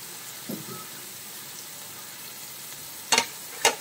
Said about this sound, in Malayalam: ഇനി നമുക്ക് നന്നായിട്ടൊന്ന് വഴറ്റിയെടുക്കാം.